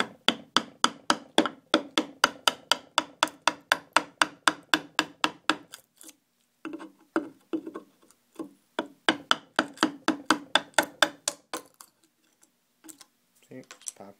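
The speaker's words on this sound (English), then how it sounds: "now we're gonna go through the second phase of chiseling this out" Steady rhythmic tapping of a chisel cutting into a wooden headphone carving, close and fairly loud, running in quick regular strikes with a brief pause midway before resuming.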